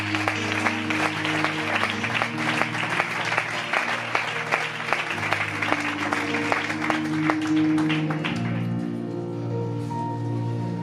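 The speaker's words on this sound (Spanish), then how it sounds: "Aleluya, aplauda a Dios, aplauda" A church congregation claps steadily in time with music, producing dense, rhythmic applause over sustained instrumental tones throughout, with no one speaking.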